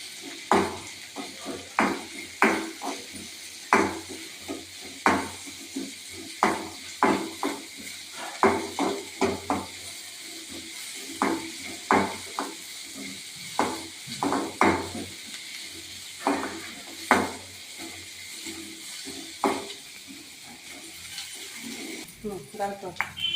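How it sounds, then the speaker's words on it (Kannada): Onions fry in hot oil in a pan for Maratha-style mutton chops, a soft sizzle under regular clanks and scrapes of a spoon stirring against the pan, with a voice talking throughout. "ಹಾಕ್ಕೊಂಡು ಸ್ವಲ್ಪ ಫ್ರೈ ಮಾಡ್ಕೊಳ್ಳಿ"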